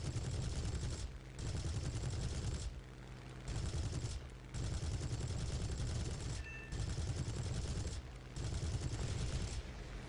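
Fighter aircraft machine guns and cannons in the War Thunder combat game fire in long, loud, dense bursts, broken by several brief pauses over about ten seconds.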